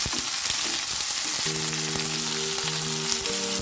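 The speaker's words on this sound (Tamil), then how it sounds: "இப்போ நம்ம ஆனியன் போட்டுக்குவோம். கொஞ்சம் கிளறி விட்டுக்கலாம்." Onion frying in hot oil in a pan while being stirred, for a Vallarai keerai poriyal: a steady close sizzle with scraping stir strokes, and faint tonal hums from the kitchen in the second half.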